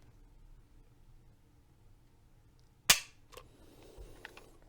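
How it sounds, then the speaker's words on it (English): A Walther PPK pistol dry-fired on a double action trigger pull gives one sharp, loud click, followed by a couple of fainter mechanical ticks as the action resets. "Double action trigger pull on the Walther Ppx."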